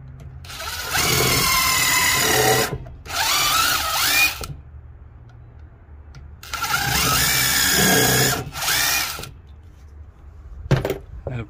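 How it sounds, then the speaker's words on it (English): A power drill whines loudly pre-drilling wood for a pergola in two long bursts with short pauses, the motor pitch rising and falling as it bites. "And a pre-drill all four corners, obviously."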